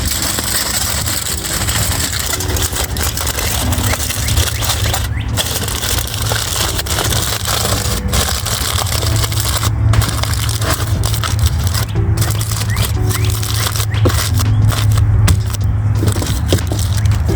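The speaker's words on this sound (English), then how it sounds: "you are going to fold your aluminum foil" Sheets of aluminum foil are folded by hand into packets for pulled pork sliders cooked over a fire, giving a steady, close crinkling and crushing with small crackles, continuous and fairly loud throughout, with no talking.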